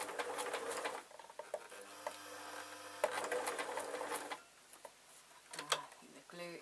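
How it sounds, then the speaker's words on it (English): A sewing machine stitches a foam sheet owl purse in rapid mechanical bursts, stopping and starting, with a softer pause in the middle and quiet speech between runs. "We just continue sewing."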